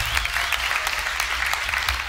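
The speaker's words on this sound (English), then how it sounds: "you guys can clap for that" Audience applause fills a church service hall, a steady, dense wash of many hands clapping that continues evenly from start to finish at a fairly close, lively level.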